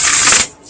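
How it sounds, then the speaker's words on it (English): Tarot cards are shuffled clumsily, giving a brief, loud papery riffle that stops abruptly partway through, then goes quiet. "That was more of a clumsy shuffle."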